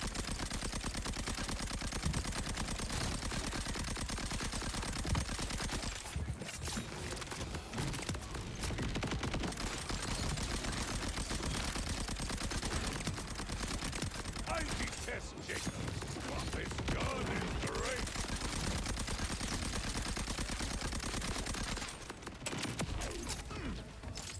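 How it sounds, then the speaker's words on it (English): Explosive bullets fired at an enemy in Borderlands 4, dense continuous game gunfire and blasts with mechanical clatter running loud throughout, briefly thinning a few times, with some talk underneath. "I've come to fill you with explosive bullets."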